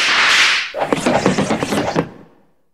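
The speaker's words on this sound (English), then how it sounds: "here's the sound of darts shooting out of a wall for a dart trap" Retro role-playing dart trap sound effect: a whooshing hiss of release followed by a rapid clattering burst of small wooden thwacks as darts shoot out of a wall, ending abruptly.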